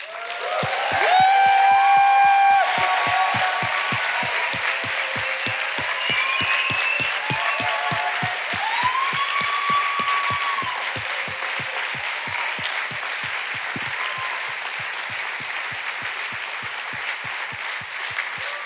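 A church congregation at a French-language worship service applauds to acclaim God, a dense, sustained roar of clapping with rhythmic beats running throughout, accompanied by held musical tones and cheering voices.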